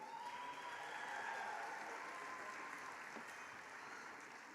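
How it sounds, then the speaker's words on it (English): A graduation ceremony audience applauds in a dense, continuous wash of clapping, heard from a distance and fairly faint, holding steady before slowly easing off. "Let's give them a round of applause."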